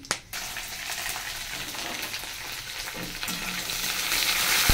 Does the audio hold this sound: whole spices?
yes